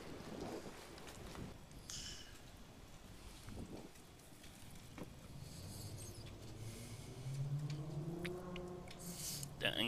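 Strong wind buffets the microphone outdoors at a huge abandoned state hospital, a steady low roar with gusts, while a voice speaks briefly.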